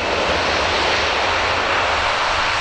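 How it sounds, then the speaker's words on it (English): Loud, steady broadband roar of an Airbus A400M's turboprop engines in reverse thrust as it rolls up the runway at an air show display, a continuous dense drone with no talk. "the aircraft now going to deeper thrust and start to reverse up the runway"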